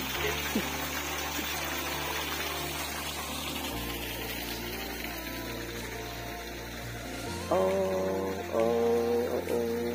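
A park stream runs with a steady, continuous wash of flowing water, joined by a low, even hum. The sound shifts slightly in level partway through but never stops.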